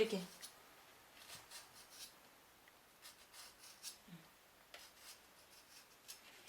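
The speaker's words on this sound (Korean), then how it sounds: "초크는 수시로 이렇게 갈아주셔야 돼요" A scissors blade scrapes along a piece of tailor's chalk to sharpen it, giving a series of faint, close, dry scraping strokes in an uneven rhythm in a quiet room.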